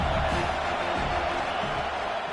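A football stadium crowd roars on a third down, a dense and constant wash of cheering that stays loud throughout.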